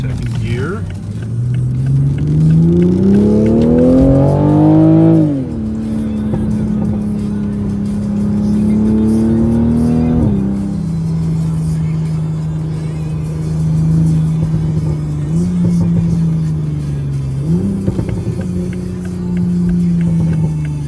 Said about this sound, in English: Pretty nice, shifting, downshifting, active exhaust, pretty cool.